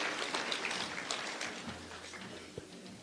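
Applause from the audience at a transport accessibility summit, a diffuse, moderately faint clatter of many hands heard throughout, with a few sharper claps standing out.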